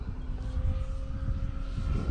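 A Decathlon 40 model airplane in flight gives a steady, droning engine hum with a constant pitch, moderately distant and unbroken throughout, with no voices.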